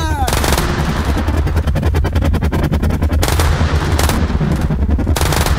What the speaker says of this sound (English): Shot. Bim, bim, bim, bim. You hear that?